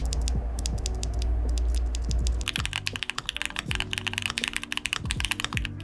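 Keys clatter close up on a mechanical keyboard with hand-lubed Gateron Oil King switches, WOB keycaps and Durock V2 stabilizers. Fast, crisp, even typing builds into a dense run of clacks over a low hum at the start.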